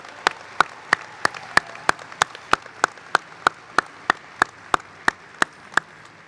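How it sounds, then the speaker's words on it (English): Clapping at a medical college graduation ceremony in honour of the staff, heard as a steady, evenly spaced series of sharp, distinct claps, about three per second, with no talking over them. "can we have one more round of applause for all the staff, educators, and advocates here today?"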